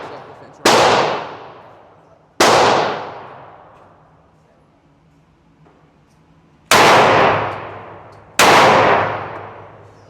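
A Glock 31 Gen4 pistol fires four loud, sharp shots at a range, spaced unevenly with ringing decays between them, heard close with no talk during the shots.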